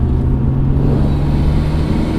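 A warmed-up BMW 330ci Clubsport engine running with a steady low rumble and even drone, loud and close, with no talk over it.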